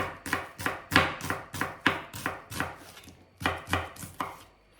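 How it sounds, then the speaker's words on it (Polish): Knife slicing an onion into half-rings on a cutting board, a run of about a dozen crisp, evenly paced chops close up with a brief pause midway, no talking. "Cebulę kroję w półplastry."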